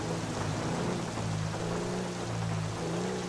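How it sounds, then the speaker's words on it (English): Steady rain drumming on a car's roof and windows in a roleplay video game, a continuous hiss with a low rumble underneath, heard alone with no talking. "Don't know how I'm hearing rain through my car"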